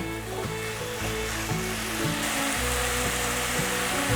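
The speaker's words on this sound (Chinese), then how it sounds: "把调味料炒匀" Seasonings with rose salt, soy sauce, pepper and tomato sauce stir-fried with white radish in a wok, a steady close sizzle with repeated scraping strokes of a spatula at an even rhythm.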